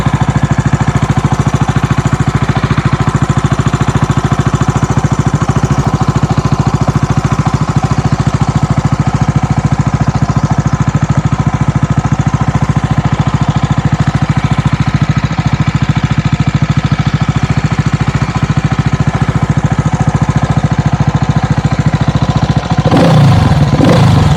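A CCM Stealth Bobber 600cc motorcycle engine runs loud and close at a steady idle, with an even throbbing rumble throughout and a brief burst of change near the end.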